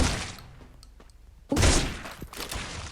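Gunfire rings out while shooting zombies in the battle royale game Free Fire, a rapid burst of shots followed by a louder, closer volley over about three seconds.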